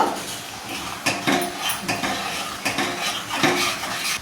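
A spoon stirs thick dal khichda in a metal pot, with repeated clinks and scrapes against the sides over a soft bubbling base. The sound is close and fairly loud, with no one talking.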